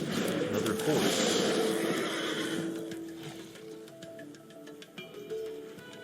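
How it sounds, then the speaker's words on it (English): A horse neighs loudly in a Magic: The Gathering match, a whinnying call with hoof clip-clop, followed by quieter game sounds and a player talking over them. "Another horse."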